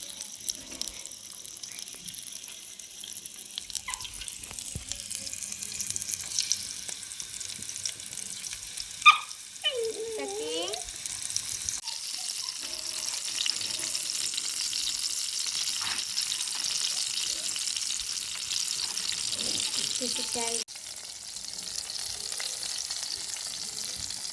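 Chicken pieces fry in hot oil in a pan in a village kitchen, giving a continuous close sizzle and crackle with occasional louder spits and stirring sounds.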